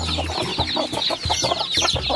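Free-range native hens cluck rapidly at close range, thirsty and hungry at feeding time, giving a busy overlapping chorus of short clucks and squawks that runs steadily throughout.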